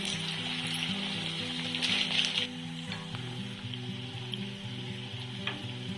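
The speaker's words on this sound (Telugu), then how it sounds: "ఇదిగోండి, ఈ కలర్ వచ్చేంత వరకు ఫ్రై చేసుకోవాలి." Urad dal fritters (minapa garelu) bubble and crackle in deep oil, a constant loud sizzle heard up close with a short burst of sharper crackling midway, alone without speech.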